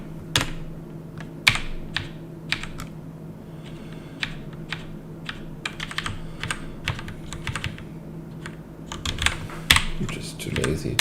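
Rapid typing on a computer keyboard, close and crisp, with irregular bursts of keystrokes over a low steady hum and a faint voice in the background.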